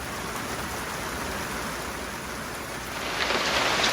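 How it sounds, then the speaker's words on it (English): Steady rain falls outdoors in Northern California, a dense even hiss of drops that swells slightly louder toward the end, with no voices heard. "it went from drizzling a little bit to pretty much a solid rain"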